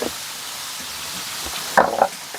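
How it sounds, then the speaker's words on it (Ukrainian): A frying pan sizzles steadily in the background while meat is cooked after a home pig slaughter, with a brief louder burst of crackling near the end. "А сковорідочка, друзі, шкварчить, це просто капець."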